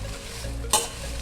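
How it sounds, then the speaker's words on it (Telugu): Curry leaves still on their stems roast in a pan, giving a dry crackling sizzle with one sharp scrape or clatter partway through, heard close and alone. "ఇది కూడా తొడయాలతోనే వేయించుకోవాలి, ఎందుకంటే తొడయాలు తీస్తే గింజలన్నీ రాలిపోతాయి"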